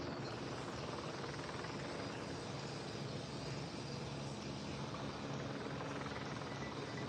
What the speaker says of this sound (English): The helicopter noise.